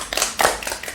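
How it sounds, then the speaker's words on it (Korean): Members of a church congregation clap in thanks at the close of a Sunday sermon, a brief burst of close, uneven handclaps. "감사의 박수를 드립시다."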